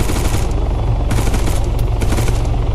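Rapid automatic gunfire in an ARPS video game, sustained rattling bursts of shots close and loud, continuous through the moment with no talking.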